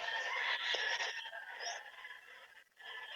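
Backyard chickens in a Philippine flock clucking and calling, with a rooster crowing among them: overlapping bird calls at moderate loudness, rising and falling and briefly dipping near the end, with no talking.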